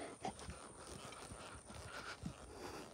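A horse walks along a riverside in the afternoon, its hooves giving soft, fairly regular clip-clops that stay faint and somewhat distant against a quiet outdoor background.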